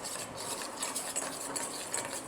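Gram flour being stirred and roasted over a low flame in a pan, a steady soft scraping and rustling that runs continuously at close range with faint sizzle, no voices.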